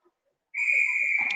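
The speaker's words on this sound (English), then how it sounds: "And there's the whistle for the warm-up." A single referee's whistle blast at an indoor ice hockey rink signals the warm-up, a sharp, sustained shrill tone after a short silence.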